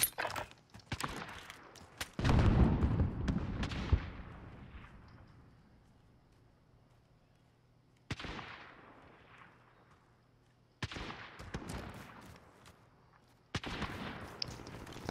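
Gunfire in a THE FINALS-style shooter video game: sharp shots crack out at the start, followed by a heavy burst of rumbling blasts and then two or three more isolated shots later on, with quiet stretches in between and no talk.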